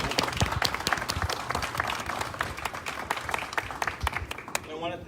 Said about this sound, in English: You really do deserve a huge round of applause.